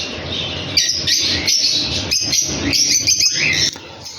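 Many small birds chirp and tweet at once inside a bird shop in Mashhad, a busy, bright chatter of overlapping calls filling the space close by.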